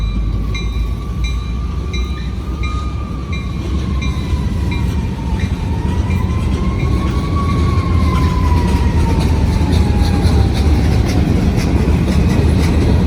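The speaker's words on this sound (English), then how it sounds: "Hear more sirens again." Train horn sirens mounted on poles in Springfield, Ohio, wailing steadily over a loud rail rumble, the tone sliding slowly down and back up for the whole stretch.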